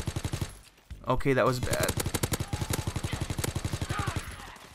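Rapid-fire SMG bursts in Call of Duty: WWII, a fast even stream of punchy shots running almost throughout, with someone talking briefly over the firing.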